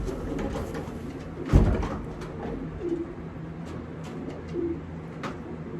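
A racing pigeon hen coos softly nearby, a few low murmured calls over quiet background, with one brief knock or rustle partway through.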